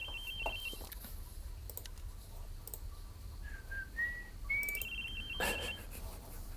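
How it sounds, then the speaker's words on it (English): A person whistles a short, wandering tune against a steady hum of computer game sounds, with scattered clicks and a few brief electronic tones around it. "you know something's wrong when I'm whistling"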